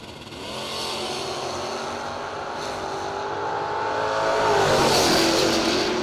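A Mopar drag race car, a 69 Fury, accelerates hard down the strip, its engine note climbing steadily and growing louder as it builds speed, with no talk over it.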